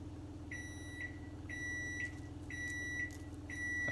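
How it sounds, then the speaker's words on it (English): A kitchen timer beeps in a home kitchen, four evenly spaced high electronic beeps about one second apart, clear over a low hum of cooking background noise. "That's an unrelated timer, that's for the kids"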